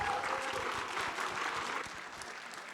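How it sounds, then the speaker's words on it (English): Sustained applause from a conference audience at a WordPress business event, a dense even patter of many hands filling the room, easing slightly toward the end. "Why don't we give Nathan a round of applause?"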